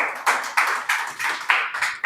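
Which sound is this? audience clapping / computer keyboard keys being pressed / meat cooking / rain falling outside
audience clapping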